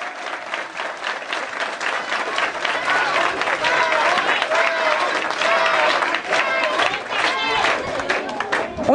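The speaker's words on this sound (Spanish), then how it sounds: "Un aplauso a este gobierno democrático." Sustained applause from a large crowd at a political campaign event, steady dense clapping throughout with some voices and cheers mixed in.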